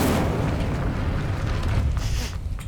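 Casting the Incendio fire spell in Hogwarts Legacy, a sustained roaring whoosh of flame rushes out loudly and evenly for a couple of seconds before tapering slightly.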